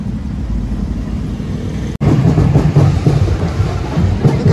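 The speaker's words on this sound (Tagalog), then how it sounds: "Sobrang traffic dito sa A. Bonifacio." Heavy, slow road traffic on A. Bonifacio in Manila near the North Cemetery, a steady close engine rumble that cuts out for a moment and then returns louder, with no talking.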